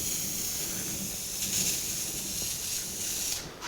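Aerosol spray can laying a clear coat on the windshield frame, tailgate and door parts of a 1982 Jeep CJ7: a continuous close, loud hiss that holds steady for several seconds, then sputters and thins at the end.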